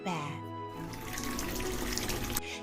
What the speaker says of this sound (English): Mrs. Large ran a deep hot bath.